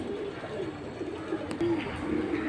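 Pigeons coo steadily at a busy bird market, with several low, throaty coos repeating close by over a constant crowd murmur.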